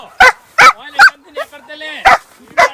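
A native Indian street dog barking loudly and close by, five sharp barks in an uneven rhythm with a short whine between them.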